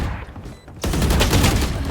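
Gunfire from the video game Valorant breaks out after a quiet moment in a loud, sustained rapid burst that runs to the end.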